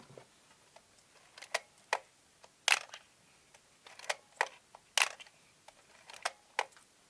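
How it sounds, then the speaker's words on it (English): A string of sharp mechanical clicks at irregular intervals, crisp and close, like a camera shutter being fired and wound repeatedly. "Actuate the shutter."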